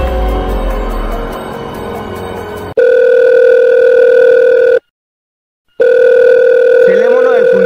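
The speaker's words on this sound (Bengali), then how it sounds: "ছেলে মনে হয় ফোন করছে।" A telephone rings with a steady electronic tone that sounds in two long bursts separated by a short silence, following a stretch of louder, busier background sound.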